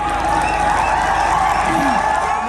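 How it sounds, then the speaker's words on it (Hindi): An audience at a Hindi poetry recital applauds steadily in a sustained wash of claps and crowd noise, with a voice audible over it. "आप लोग भी एक बार तालियां बजाकर ऊर्जा दीजिए।"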